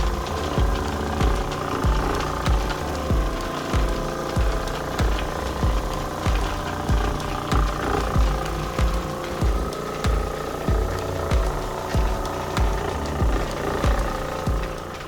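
A Covington Engineering 10-inch Vibra Lap runs with 1200 grit aluminum oxide, polishing a large seam agate. It makes a continuous loud mechanical drone with steady, regular knocking pulses about twice per second, close up and without any talking.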